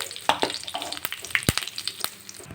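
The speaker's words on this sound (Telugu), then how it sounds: "ఇక్కడ ఆయిల్ అయితే వేడయ్యాక ఇందులో కొద్దిగా శనగపప్పు అలానే ఆవాలు జీలకర్ర కొద్దిగా ఎండుమిర్చి వేసి" Chana dal, mustard seeds, cumin and dried red chillies fry in hot oil, giving sharp irregular crackles and pops over a soft sizzle, close and fairly quiet.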